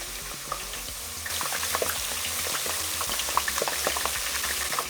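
Potato chips fry in hot oil, a steady close sizzle with crackling bursts and bubbling throughout, no talking.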